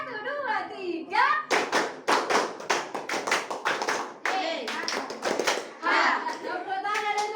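Students in a classroom clap in a counted pattern, a run of crisp, rapid claps in repeated groups mixed with children's voices chanting along, close and fairly loud.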